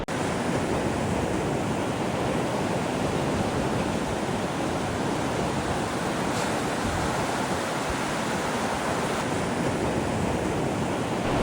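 Ocean surf breaking steadily in shallow water over a sandbar at a beach, a loud, continuous roar with no distinct individual crashes.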